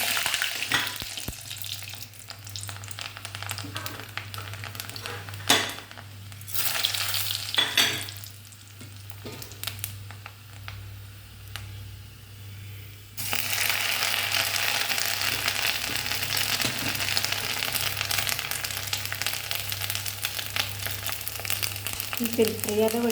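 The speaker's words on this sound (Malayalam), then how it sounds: "ഉഴുന്നുപരിപ്പിട്ട്" Urad dal frying in plenty of coconut oil with popped mustard seeds, a steady close sizzle that grows louder and denser partway through, with occasional stirring scrapes and a low hum underneath.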